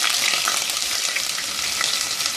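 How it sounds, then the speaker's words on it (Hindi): Whole garam masala spices, cloves and black peppercorns, sautéed with ginger garlic paste for goat or beef aloo gosht, giving a steady, close, continuous sizzle and crackle of frying in hot oil throughout, with no voices. "और 1-2 मिनट इसको सौते करेंगे।"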